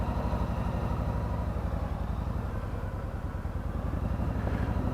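A 2018 Yamaha Eluder motorcycle runs on its first ride, its engine giving a steady, close, pulsing low throb that holds even throughout.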